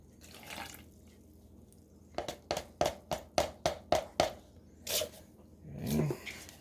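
Water poured into two molds for concrete tea light vessels: a quick run of about eight sharp, evenly spaced drips or splashes, with a few softer splashes on either side against a quiet background.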